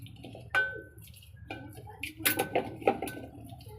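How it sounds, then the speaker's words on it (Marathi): Small goat intestines (vajdi) are washed in water in a kitchen vessel, with scattered splashes and sharp metallic clinks of the pot, loudest in a cluster near the end. "आता हे जे आतडे छोटे हे धुवून घेते मी"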